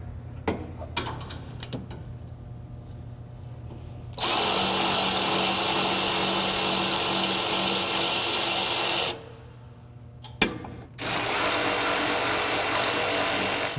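A power tool drives 14mm crash bar bolts: two long, loud bursts of whirring and buzzing, the second cut short by a pause, between quieter stretches of clicks and clanks of handling.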